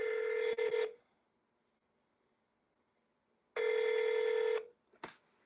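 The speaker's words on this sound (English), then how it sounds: "Weird ass ringtones." Two bursts of an electronic phone ringtone with a bright, buzzy multi-tone pattern, each lasting about a second, separated by a long silent gap and followed by a short blip, heard in a hotel setting.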